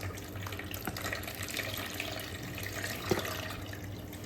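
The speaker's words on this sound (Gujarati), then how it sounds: "આપણે આ રીતે કાણાવાળી ચાણી લઈ અને એ રીતે ધોઈ લેવાનું છે." Sliced potatoes being rinsed in a perforated colander under a running kitchen tap, a steady close rush of water with soft splashes and a small clatter, no voices.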